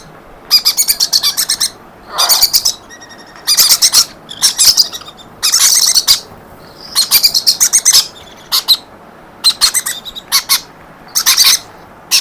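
Shrill, rapid conure chirps in repeated bursts, loud and close, with brief pauses between each flurry of calls.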